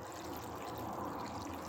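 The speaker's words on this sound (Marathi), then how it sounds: "मी याच्यामध्ये पाणी घालत" Water poured over cut karela (bitter gourd) pieces while making a bitter gourd sabzi, a soft steady pour and trickle sounding close and fairly quiet, with no voices.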